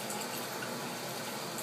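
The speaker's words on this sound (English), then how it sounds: "This is this full blast cold water." A bathroom sink faucet in a guest bedroom runs cold water at full blast, giving a steady, loud, close rushing hiss with no breaks and no talking.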